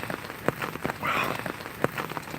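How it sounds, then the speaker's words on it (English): Rain falls in a yard during a North Carolina rainstorm, a close patter of drops hitting surfaces with a few louder taps and a brief swell in the middle, with no talking. "it is raining in the yard."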